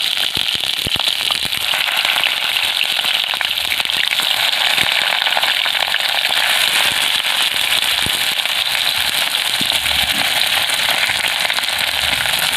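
Sesame-paste fritters wrapped in ash gourd (pumpkin) leaves fry in hot mustard oil, giving a steady, dense crackling and spitting that runs loud and close throughout, with no talking.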